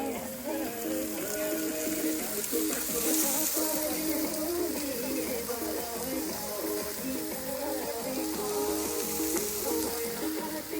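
Meat sizzles and fries in a pan at an outdoor spot in Kakani, Nuwakot, Nepal, a dense, steady crackle running the whole time, with background music and faint voices beneath.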